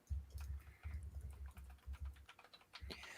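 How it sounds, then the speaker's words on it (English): Fingers tapping on a computer keyboard, a quick irregular run of soft clicks and keystrokes, close but quiet, with brief pauses between bursts and no voices. "We're both looking it up typing here."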